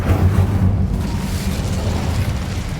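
Fire spell cast in Hogwarts Legacy, a loud, sustained low roaring burst with a deep rumble that holds steady throughout, no voices over it.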